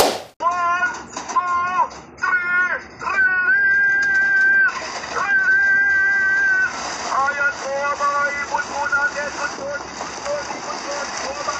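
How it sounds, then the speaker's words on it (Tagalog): Many high, wavering pigeon calls overlap in a dense, continuous chorus close by at a pigeon race, some long drawn-out whistles rising and falling. "Napakaraming ibon."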